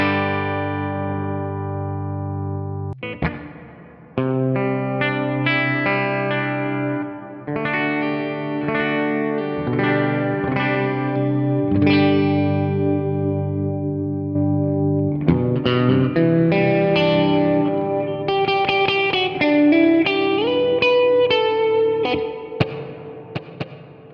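Electric guitar played through a Valeton GP-5 and an HX Stomp with reverb, compression and drive, a steady stream of sustained chords and picked notes with a washy tail, heard alone without talk.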